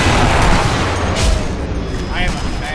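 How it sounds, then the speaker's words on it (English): A grenade goes off amid zombie combat in Sniper Elite: NZA, a loud, close, rumbling boom that trails into a long low roar, with voices talking over the blast. "I threw a grenade!"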